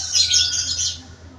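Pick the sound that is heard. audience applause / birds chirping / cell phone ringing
birds chirping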